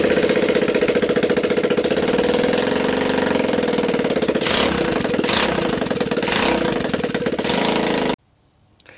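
A Linhai Talon 4x4 ATV engine, bought at auction and started on a bench test, runs loud and close with a steady, slightly knocking idle before cutting off abruptly near the end.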